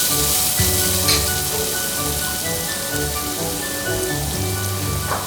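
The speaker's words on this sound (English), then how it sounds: "at this stage I'm going to add the turmeric powder, give it a quick stir." Kootu with turmeric powder being stirred into it in a cooking pot, a steady sizzling, rain-like hiss throughout with a faint scrape or two of the spoon near the start.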